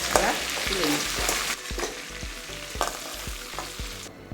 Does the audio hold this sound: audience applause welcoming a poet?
no